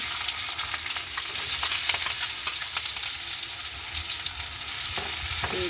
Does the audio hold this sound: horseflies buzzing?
no